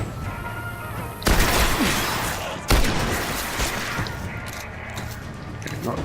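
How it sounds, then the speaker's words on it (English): Two loud shotgun blasts in the Destiny video game, each a sharp boom with a rolling tail, about a second and a half apart, set over a steady game soundscape. "I think it's time to unleash the shotgun. Gotta love that power."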